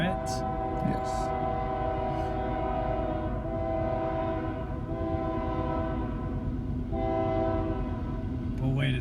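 A train rumbles past nearby, its horn blaring in long sustained chords over the steady roll of the wagons, with faint voices at the start.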